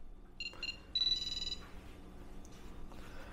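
A Meshtastic mesh radio node's buzzer sounds an external notification as a few short, shrill electronic beep bursts, close and clear, followed by quieter background noise.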